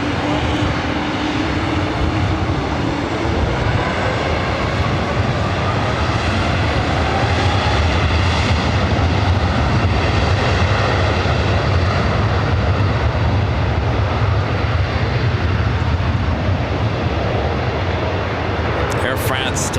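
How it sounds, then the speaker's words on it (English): Air France airliner taking off from the south side runways at LAX, a sustained distant engine roar rising and holding steady, with radio chatter and other voices audible. "Air France taking off there on the south side."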